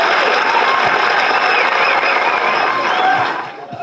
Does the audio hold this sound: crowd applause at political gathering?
yes